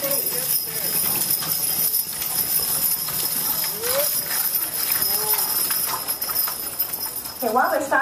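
Belgian draft horses' hooves clip-clop steadily on pavement as they pull a freight-style wagon, with a person talking over the sounds and brief squeaks near the end.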